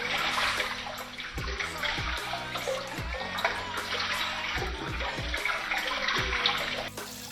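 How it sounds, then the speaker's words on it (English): Tap water poured into a small micro aquarium, a continuous splashing trickle with gurgles and faint knocks, close and steady throughout. "Gently pour it in."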